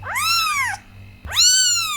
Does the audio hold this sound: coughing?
no